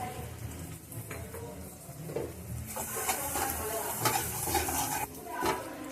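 Spice paste with ginger stirred and sautéed in a pan for gang mourola fish curry, with a steady low sizzle under repeated scraping and stirring strokes, close up, no speech.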